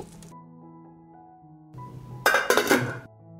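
A pot is set down on a stovetop and covered with its lid, giving a brief loud clatter and clink of metal near the end, after quieter handling noises.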